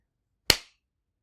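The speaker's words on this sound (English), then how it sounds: "clap on 3." A single sharp clap from a group striking hands together in unison, one crisp close burst that decays quickly into silence.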